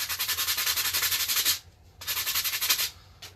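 Sandpaper rubbed rapidly over a plastic Nerf blaster shell, a steady rasping stroke pattern that pauses briefly, then resumes, close and loud with no talk.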